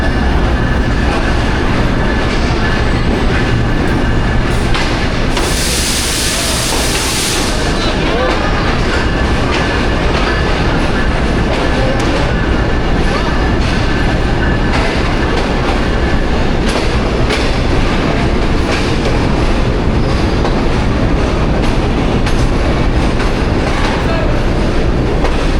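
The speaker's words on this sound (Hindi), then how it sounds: "लाहौर जंक्शन रेलवे स्टेशन पे अप्रोच बना रही है 6 टाउन ग्रीन लाइन" Green Line Express passenger train running on its approach to Lahore Junction, a loud continuous rumble with rhythmic clickety-clack of wheels and a brief high squeal or hiss partway through.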